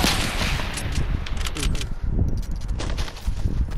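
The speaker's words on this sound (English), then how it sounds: "Someone else shot at me." Gunfire in the Fortnite video game: a dense, continuous clatter of shots and impacts for about four seconds, with no clear gaps between reports.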